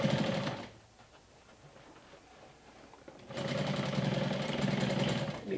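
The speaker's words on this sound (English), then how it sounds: "I'm gonna now go ahead and do one more round of stitching" Sewing machine stitching fabric for a mini top hat, a steady close mechanical whir that runs for under a second, stops for a few seconds of quiet, then starts again and runs to the end.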